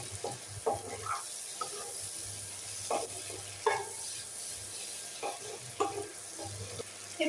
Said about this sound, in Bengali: নেড়ে চেড়ে এগুলো অল্প অল্প ভেজে দেব।